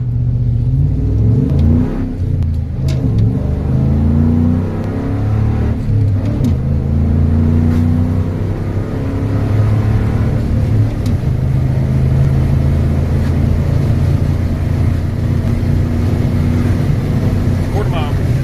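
A Ford F150 pickup on nitrous makes a quarter-mile run, its engine roaring loud and close as it revs up through rising, shifting tones for the whole stretch, with voices talking over it.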